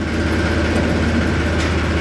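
A farm tractor engine runs steadily at idle, a continuous low, heavy rumble with a throbbing rhythm close by and loud, with no talk over it.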